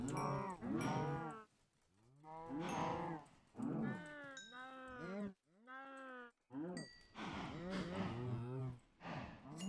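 Minecraft cows mooing in a video game, a series of loud, drawn-out moos overlapping one after another with brief gaps, clear and close throughout.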